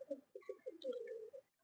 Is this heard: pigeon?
yes